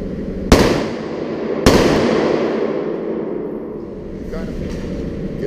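Two sharp handgun shots from a Tactical U Private pistol on a range, about a second apart, loud and close, each followed by a long reverberant decay, with faint voices.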